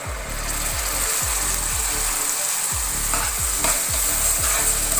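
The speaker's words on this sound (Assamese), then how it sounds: "তেলটো এনেকা ফুটি নাহিব তেতিয়ালৈকে এইখিনি ভাজিব লাগিব লৰাই থাকিব" Ground tomato with cumin and coriander powder being stir-fried in hot oil, a dense, loud, continuous sizzle with a steady repeating scrape and knock of stirring throughout.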